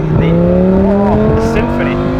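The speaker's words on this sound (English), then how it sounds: "listen to that V10 sing" Lamborghini Gallardo Spyder V10 revving hard through a quick gear change, a smooth rising engine tone that dips and climbs again, loud and close with a faint voice underneath.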